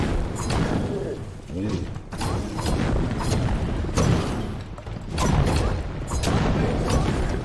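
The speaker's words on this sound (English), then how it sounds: "There's a little explosion that happens with these blades," Small blade-triggered explosions burst during melee combat in Kingdoms of Amalur: Re-Reckoning, with repeated thumps and booms mixed among clashing game effects while someone talks over the action.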